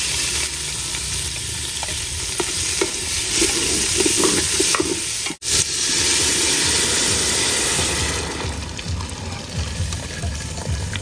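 Meat hits hot oil in a cooking pot and sizzles and fries loudly and close, with a steady crackling hiss and stirring scrapes that keep going throughout.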